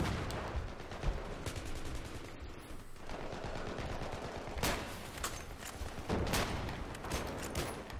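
Rapid M98B rifle fire in the shooter Battlefield 3: loud, sharp cracks come in uneven bursts and single shots over constant battlefield noise, with several heavier reports standing out.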